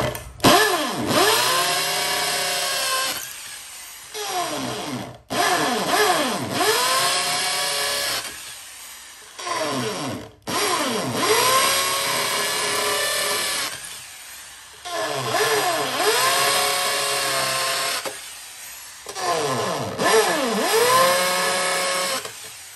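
Dekton 13 mm electric drill run in hammer mode for masonry, a loud whining motor with rapid hammering rattle, switched on and off in about five bursts of several seconds each, separated by short pauses.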